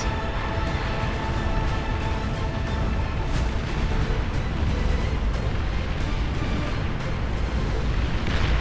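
Commander unit destroyed in the real-time strategy game Beyond All Reason, heard as a dense, sustained roar of rumbling blasts and booming explosions that stays loud and continuous throughout, with no talking.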